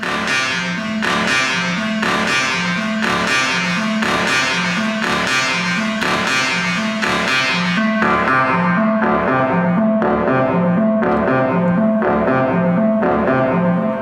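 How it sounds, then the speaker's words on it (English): A synth line drenched in reverb, repeating a pulsing rhythmic pattern of tones with long washed-out tails, loud and continuous, sounding distant and atmospheric. "So this is the same sound with some reverb, so it's going to sound further away and more atmospheric."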